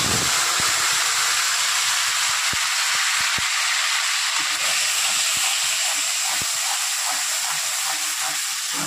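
A ginger, onion and garlic paste fries with cumin and spices for a Bengali soybean curry, giving a loud, constant hissing sizzle with occasional stirring knocks, close up and with no voices.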